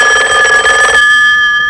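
A telephone rings loudly with a shrill electronic trill for about a second, then the tone cuts off and only a faint hum remains.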